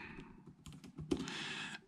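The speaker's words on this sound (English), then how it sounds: "this keyboard is super, super comfortable to type on" Typing on a Lenovo Yoga C630 2-in-1 laptop keyboard: quiet, soft key clicks in a quick, uneven run, close by and muted.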